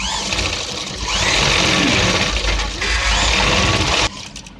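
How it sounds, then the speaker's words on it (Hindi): An electric sewing machine runs in a steady, loud whirring burst while stitching a lab neckline on a patti paan neck design, with a brief pause and a drop near the end. "इस पर हम लब की सिलाई लगा रहे हैं।"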